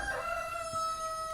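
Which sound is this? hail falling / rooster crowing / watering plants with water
rooster crowing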